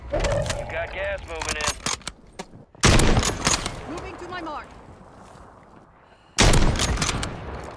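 Gunfire from the Warzone 3 video game arrives in loud, close bursts of rapid shots separated by quieter gaps, with a voice talking over parts of the exchange.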